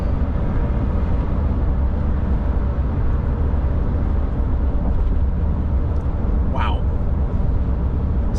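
Steady low road and engine rumble fills the cabin of a 2024 GMC Sierra 2500 AT4X diesel pickup cruising at 70 mph, a constant broadband drone with a brief faint chime near the end.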